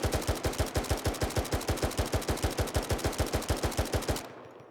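An M3 grease gun fires a single sustained automatic burst of roughly thirty-five evenly spaced shots in ARMA 3's Spearhead 1944 World War II setting, loud and close, then cuts off abruptly into silence.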